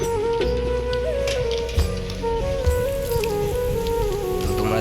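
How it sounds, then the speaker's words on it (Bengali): Heavy rain falls steadily on surfaces nearby, a dense patter with no voices. A low constant hum runs underneath. "এখানে খুবই বৃষ্টি হয়েছে, দেখো"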